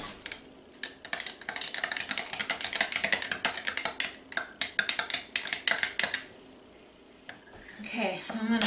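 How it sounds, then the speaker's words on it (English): A spoon stirs melting oil in a metal pot while making laundry soap bars, giving a dense run of close, quick scraping clinks against the pot that pause briefly before a few more taps, with faint voice-like sounds near the end. "I'm just going to give it a little stir here."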